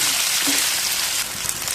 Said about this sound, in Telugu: కొద్దిగా వేయించుకుందాం